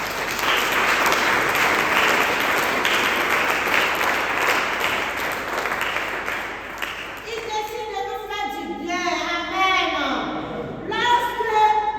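A church congregation applauds steadily, a dense wash of clapping that fades after several seconds, followed by a voice and then singing with sustained tones.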